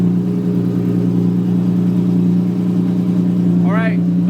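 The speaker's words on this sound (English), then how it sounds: "We're gonna let it idle." A Nissan 370Z engine idles steadily with a low, even drone throughout, while a brief high chirp rises near the end.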